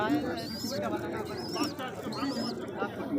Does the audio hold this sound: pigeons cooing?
yes